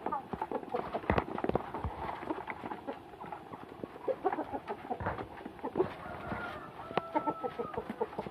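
Laying hens clucking and scratching nearby as they queue at feeding time, with brief quiet speech and scattered knocks and taps as they move about.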